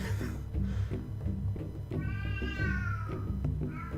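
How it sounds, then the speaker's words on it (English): A cat lets out a drawn-out, rising then falling meow near the middle, heard over a steady, busy background bed of sound. "I respond with the cat meowing."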